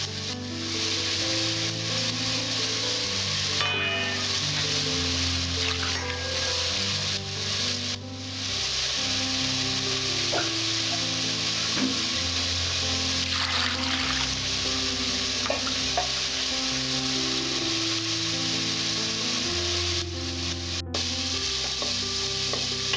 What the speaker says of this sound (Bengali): আমার সবজিটা মোটামুটি ভাজা হয়ে এসছে, আর একটুখানি ভাজবো